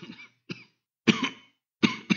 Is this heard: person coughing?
yes